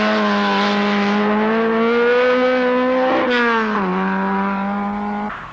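A Skoda rally car from a 1970s rally screams past at high revs, a loud sustained engine whine that rises and falls in pitch with gear changes and fades at the end.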